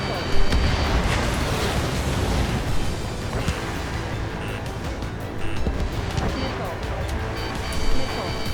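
Aircraft cannon fire in the jet combat game Ace Combat 7: Skies Unknown, a dense continuous rumble of bursts and booms with a few sharper peaks, blended with engine roar and game voice chatter.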